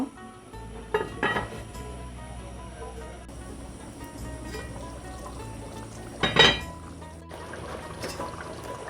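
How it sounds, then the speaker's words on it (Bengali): Water poured into a pot of meat being cooked for achari mangsho, a steady liquid pour with a couple of brief louder splashes and light clinks of cookware. "এমনভাবে জল দেব যাতে মাংসটা হয়ে গিয়ে গামাকা গামাকা হয়"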